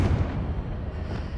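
Confringo blasting spell explosion in Hogwarts Legacy, a deep booming blast that rumbles and fades, followed by a fresh sharp burst at the very end.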